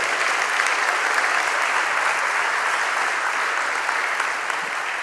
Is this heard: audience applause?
yes